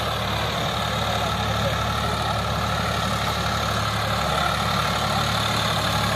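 A tractor engine, a Sonalika Maharaja or Swaraj 744 FE, runs steadily while working a field, a constant loud low hum and drone with no clear change in pitch.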